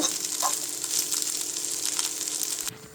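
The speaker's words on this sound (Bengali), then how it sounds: "চিপস ফ্রাই করার জন্য এখানে তেল গরম হতে দিয়ে দিলাম আগে থেকে এখন এই চিপসগুলো আমি ফ্রাই করে নেব" Potato chips frying in hot oil give a continuous bright crackling sizzle that stays steady throughout, then cuts off abruptly near the end.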